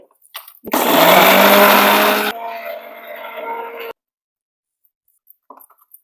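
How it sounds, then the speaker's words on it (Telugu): A mixer grinder grinding spices whirs loudly at full speed for a couple of seconds, then drops to a lower, rougher grind before stopping abruptly. "కొంచెం గ్రైండర్ పట్టుకోవాలి"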